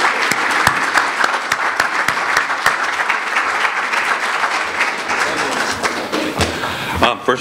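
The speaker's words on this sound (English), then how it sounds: "Please provide a round of applause for Coach Mark Rhodes" An audience at a youth sports Wall of Honor dedication applauds a youth soccer coach, sustained full clapping with a few sharp louder claps up close, tapering off near the end as a voice starts.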